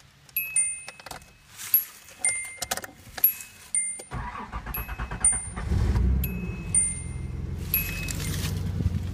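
A 1985 Nissan 300ZX engine with a slight misfire runs steadily outdoors in wind, a low continuous rumble taking over about halfway through after a stretch of sharp clicks and short tonal chirps.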